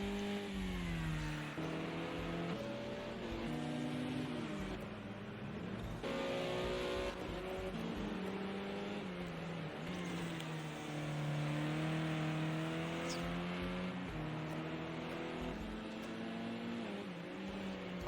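Onboard touring race car at Laguna Seca, a Renault Megane in an IMSA Michelin Pilot Challenge race, its loud engine rising and falling steadily through gear changes over a full lap stretch with no talk.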